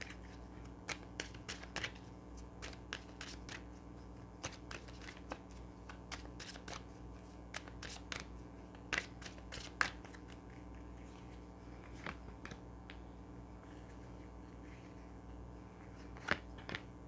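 Tarot cards being handled and shuffled, soft repeated riffles and taps close by over a quiet steady hum, with no talk.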